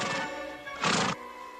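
A horse on a western ranch lets out one short, loud, bright whinny near the middle, set against a steady background murmur.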